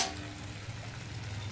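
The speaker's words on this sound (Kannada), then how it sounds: "ಇದು ಹುರಿತಾ ಇದೆ." Mutton masala with fenugreek sizzling and frying steadily in a pan, a continuous soft crackle at close range with no voices.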